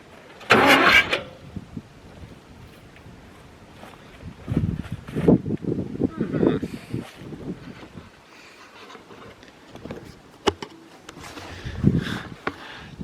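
A burnt Ford 4000 diesel tractor, abandoned for over 20 years, is cranked into life: a sharp starting burst, then uneven rumbling chugs and another surge later on, close and outdoors.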